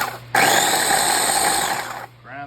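A small electric grinder whirs loudly and steadily as it reduces dehydrated tomato skins to powder. The motor holds a constant high drone for about two seconds before spinning down.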